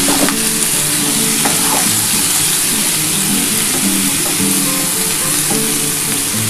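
Green chilies are stirred into a vegetable chorchori of stems in a pan, giving a loud, steady sizzle of frying with the scrape of a spoon against the metal at intervals. No one talks.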